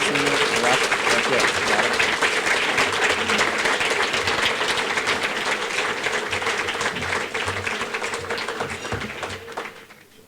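A breakfast event audience gives sustained, loud applause, dense steady clapping filling the room for about ten seconds before tapering off at the end.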